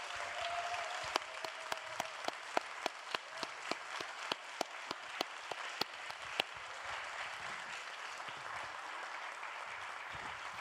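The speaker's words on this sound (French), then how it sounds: "Et je vous demande un tonnerre d'applaudissements pour Cristóbal." Steady applause from an audience honoring a music composer, a dense wash of clapping with scattered sharper claps, continuing evenly throughout without speech.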